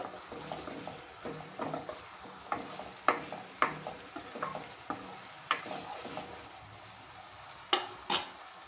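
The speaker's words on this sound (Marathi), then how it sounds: "हे बघा, 5 ते 7 मिनिट झालेले आहेत आणि मसाले छान तेलामध्ये परतून घेतलेले आहेत।" Masala spices fry in oil for methi kofta curry, a soft continuous sizzle punctuated by a series of sharp spatula taps and scrapes against the pan, close by and unaccompanied by voices.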